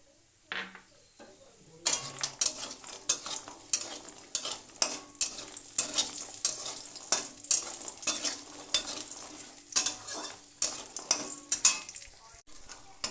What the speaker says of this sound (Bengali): মাছ ভাজা তেলের মধ্যে বড়িগুলো ভেজে নেব